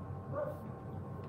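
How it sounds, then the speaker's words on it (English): A single dog gives a short, muffled bark or yip at moderate distance, brief and alone against a quiet indoor background. "it's just this dog is driving me nuts"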